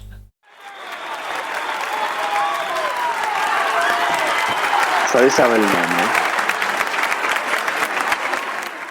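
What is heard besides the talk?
applause sound effect from a large crowd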